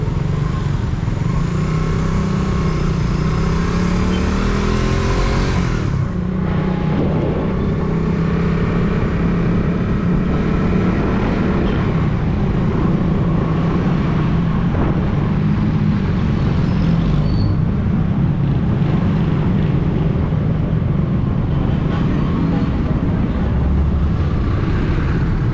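Heavy rush-hour road traffic with cars and motorcycles, a dense continuous roar of engines close by, with passing vehicles and occasional brake hiss throughout.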